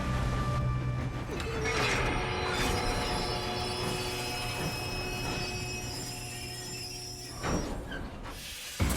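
A moving train in Red Dead Redemption 2 rumbles steadily with clanking mechanisms and high metallic wheel squeals, a dense continuous roar throughout with a brief impact near the end.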